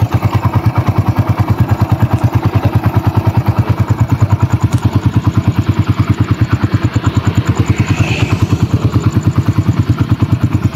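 A motorcycle engine idles steadily, its rapid regular pulsing close and loud, with no change in speed throughout.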